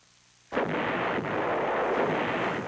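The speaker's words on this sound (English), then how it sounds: "North Vietnamese artillery, hidden inside the zone, hammered Marine bases, causing heavy casualties" North Vietnamese artillery fire on Marine bases near the demilitarized zone in the Vietnam War: after near silence, one sudden heavy blast that rolls into a sustained, loud roaring rumble.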